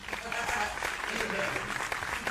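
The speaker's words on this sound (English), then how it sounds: "Give yourself a round of applause, Mikey." Live audience applause at a stand-up comedy show: dense, continuous clapping from a crowd, loud and sustained throughout, with voices and cheering mixed in.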